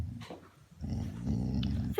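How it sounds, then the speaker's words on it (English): A pet dog growling low and steady at close range with a rumbling rhythm, rising near the end into a brief sharper whine, with no talking over it. "I think my dog wants me to leave him."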